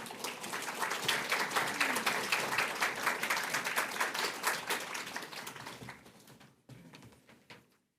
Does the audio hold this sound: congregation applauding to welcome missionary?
yes